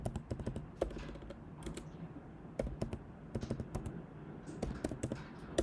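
A password is typed on a computer keyboard in quick bursts of crisp key clicks with short pauses between them, close and fairly quiet.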